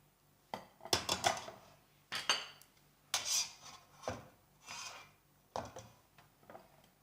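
Metal serving spoons scrape and clink against plates and pots as food is dished out, a series of close, distinct bursts of clatter spaced a second or so apart.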